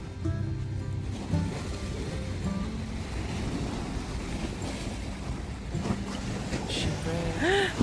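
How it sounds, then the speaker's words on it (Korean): Ocean waves wash steadily onto a quiet shore at night in Vietnam, a continuous soft roar with faint voices and a brief whistle-like tone near the end. "파도 소리가 들리나요, 여러분?"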